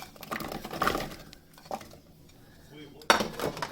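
Halved chilies, a large piece of ginger and a bulb of garlic drop into a metal pot in several clattering bursts, with a louder clank near the end and quiet movement between.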